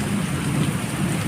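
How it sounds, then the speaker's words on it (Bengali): Heavy rain pours down on a cloudy day as a dense, even hiss, close and steady, with a voice talking faintly underneath. "এই যে খুব বৃষ্টি হচ্ছে"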